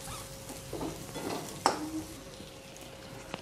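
Tomatoes sautéing in a pan make a soft, low sizzle, broken by a few stirring scrapes and a single sharper clink of a utensil against the pan.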